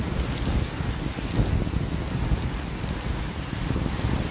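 Heavy rain falls steadily at a tilapia fishing spot, a dense, continuous roar of drops hitting surfaces, close and loud throughout, with no talk.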